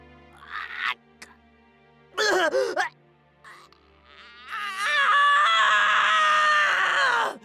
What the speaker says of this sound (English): I hadn't heard him scream like this before.